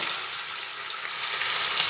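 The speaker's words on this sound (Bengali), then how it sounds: "এক এক করে আমুদে মাছগুলোকে তেলের মধ্যে দিয়ে ভেজে নিচ্ছি" Dense, hissing crackle of amude fish frying in hot oil over a high gas flame, steady and close, with no voices.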